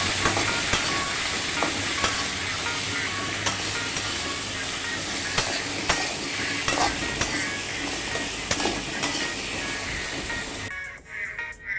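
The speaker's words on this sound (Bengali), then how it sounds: "সো কুমড়াগুলো এইভাবে উল্টে পাল্টিয়ে ভেজে নিতে হবে।" Pumpkin pieces frying in oil in a pan while being turned, for a rohu fish curry: a loud continuous sizzle with repeated scraping and stirring knocks, cutting off abruptly near the end.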